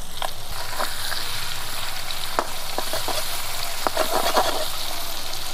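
Fish and potatoes fry slowly in mustard oil over low heat, giving a steady, dense sizzle throughout with a few sharp crackles and spits popping out near the pan.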